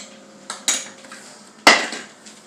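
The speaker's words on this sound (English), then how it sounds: "Stir that all together." A spoon knocks and scrapes against a pot of lasagna sauce in a few sparse metallic clinks, one sharper clank near the end, quiet and close with no voices.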